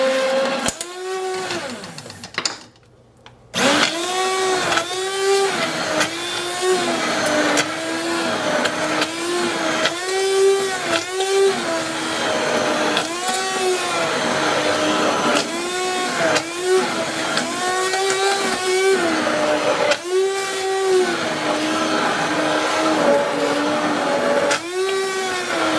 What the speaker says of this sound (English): we are going to take our immersion blender